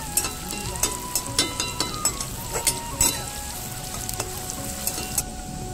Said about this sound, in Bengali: পেঁয়াজটাকে আমি পুরো লাল লাল করে ভেজে নেব।